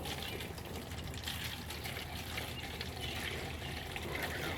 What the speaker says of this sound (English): we're going to fill up the container until we see water just at the bottom of the cup